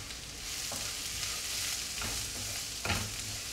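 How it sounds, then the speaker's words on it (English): Poppy seeds (posto) fry in mustard oil for Odia aloo posta, giving a steady close sizzling hiss broken by a few short scraping stirs. "poppy seed in mustard oil tastes really good. I'll get it fried a little bit"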